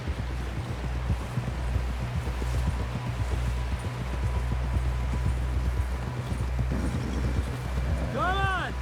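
Horse hooves clip-clop at a steady gallop in Red Dead Redemption 2 under a constant low rumble, with voices talking over the hoofbeats and a rising whinny-like tone near the end.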